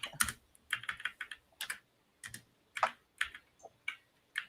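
Computer keyboard keys clack in quick irregular bursts of typing with short pauses between, close and fairly quiet, with no voices over them.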